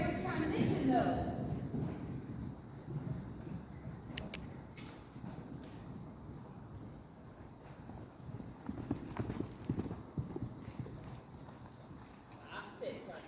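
A horse canters around a riding arena, hooves beating a steady rhythmic clip-clop on the footing at moderate distance, with an instructor's voice calling out intermittently over the hoofbeats.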